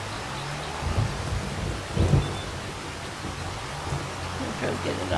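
Steady rain pours in the Farming Simulator 25 video game, with low thunder rumbling twice beneath the constant hiss, loud and close.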